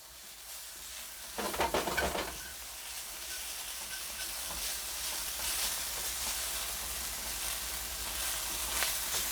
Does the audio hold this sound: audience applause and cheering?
no